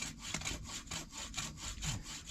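A hand saw cutting through branches while pruning a huge, old cherry tree on a mountain, with steady back-and-forth rasping strokes in an even rhythm, fairly quiet and heard alone.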